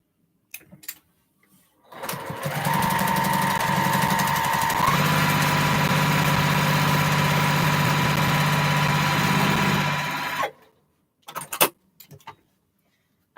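A sewing machine runs steadily for about eight seconds while stitching quilt pieces for a cathedral window quilt, a loud continuous motor whir with a slight pitch shift midway, framed by a few soft clicks and handling sounds before and after.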